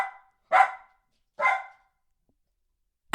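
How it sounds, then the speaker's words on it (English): A dog barks in Dominica: three sharp, loud, close barks spaced about a second apart, the last cut off at the end, with silence between and no talk. "She just started barking."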